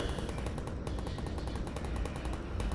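Automated gun turrets firing in Half-Life: Alyx, a fast continuous stream of rattling shots that runs the whole time, slightly distant and dense, with no voices.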